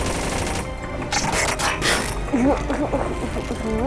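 Rapid gunfire bursts in Roblox Jailbreak, crackling in quick succession while a voice talks over them.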